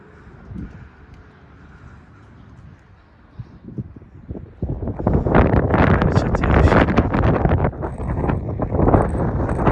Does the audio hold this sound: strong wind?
yes